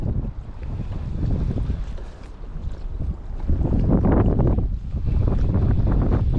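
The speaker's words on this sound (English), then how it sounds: "We are definitely on the windy side of the pond now" Strong wind buffets the microphone on a lake while bass fishing from a boat in winter, a steady loud roar that gusts harder midway, with water and hull noise underneath and no talking.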